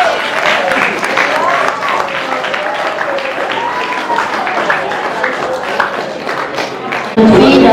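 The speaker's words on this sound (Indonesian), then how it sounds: "tepuk tangan dulu untuk Ananda Dirham." Audience applause at an Islamic school lecture gathering, broad dense clapping under overlapping children's voices and chatter, steady throughout and cutting off abruptly near the end.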